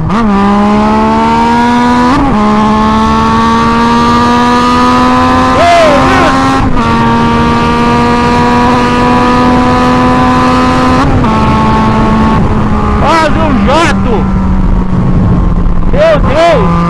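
Yamaha MT-09 (FZ-09) motorcycle with a straight-pipe exhaust, a loud, raw engine roar held close by, rising and falling through repeated revs and gear changes with sharp pops, with no talk.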